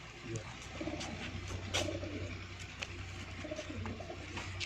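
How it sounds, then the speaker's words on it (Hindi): Ferozpuri breed pigeons coo on a rooftop loft in Pakistan, soft repeated rolling calls close by over a steady low background hum, with a few brief sharper sounds in between. "फिरोजपुरी कबूतर है"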